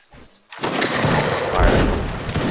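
A massed musket volley crashes out at once in a Mount & Blade: Warband Napoleonic Wars line battle, a dense, roaring fusillade that swells and lingers after a brief quiet start.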